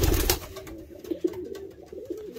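A racing pigeon coos in the loft, a few low throaty coos close by, after a brief rustle at the start, with no one talking.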